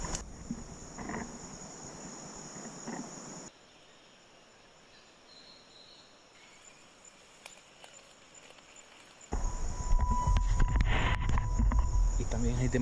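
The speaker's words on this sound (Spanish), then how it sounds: "Hay gran cantidad de saltamontes por aquí." Many grasshoppers near a river chirp in a steady high-pitched insect drone, fading in and out across several cuts and heard under louder wind and rustling in the final section.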